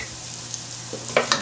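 Butter and oil sizzling in a pot with softening vegetables, a steady low hiss broken by a few louder crackles and a brief stir near the end, close and fairly quiet.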